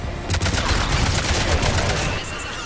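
A gunship's gun fires in Mass Effect 3, a continuous rapid hammering burst that stays loud and close, with a brief tail of battle noise at the end.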